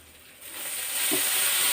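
Brinjal (eggplant) pieces dropped into hot tempering oil on high heat for a vegetarian vankaya talimpu, giving a steady broadband sizzle that swells after the first half-second and stays loud and continuous with no talk.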